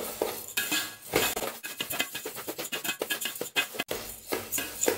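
Urad dal and rice are dry roasted in a pan until browned, a spoon scraping and stirring in quick, uneven strokes with light gritty rattling of the grains, fairly close and with no one speaking.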